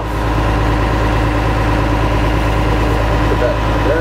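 Engine running steadily at idle while charging a battery bank, a loud, even mechanical hum with low throb and a faint whine, a voice talking over it.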